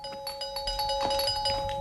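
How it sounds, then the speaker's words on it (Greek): A doorbell rings in a home with a repeated electronic chime, a steady tonal ring with rhythmic pulses, moderately loud and alone. "Μια στιγμή δεν χτυπάει το κουδούνι"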